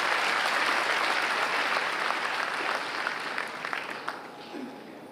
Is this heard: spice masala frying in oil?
no